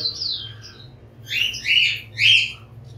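Several caged exotic birds in an aviary in Dhaka chirp and tweet in short bright bursts over a steady low hum, the calls clustering and overlapping in quick flurries.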